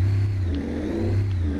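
A 6x6 Russian truck's engine in FiveM (GTA V) held at high revs, a steady low droning growl with a slight rise and fall, close and continuous with no talk.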